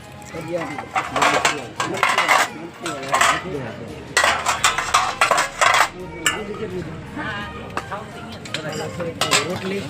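Dishes and small bowls clinking and clattering in bursts while people talk nearby.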